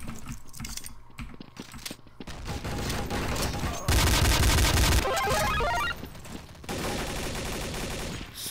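Rapid automatic gunfire from a Counter-Strike: Source match, a P90 among the weapons, with dense bursts of shots, clicks of reloading and keyboard tapping throughout, the loudest volley rattling in the middle.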